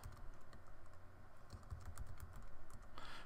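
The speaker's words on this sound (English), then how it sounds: "So I'm going to type in one for myself." Fingers tap a computer keyboard quietly and steadily, entering text into a web guestbook form with a CAPTCHA, a soft, continuous patter of close keystrokes with no speech.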